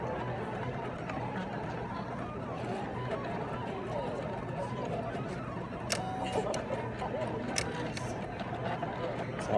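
Silhouette Curio craft cutting machine running at a craft trade show demo, a steady busy mechanical whir with faint ticking over loud crowd murmur and background talk.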